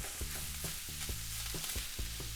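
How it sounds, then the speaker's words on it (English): Oil and flour roux for sausage gravy cooking in a pan, a steady close sizzle broken by repeated scraping stirs about every half second. "So we're just going to make a little roux and we're going to cook that down."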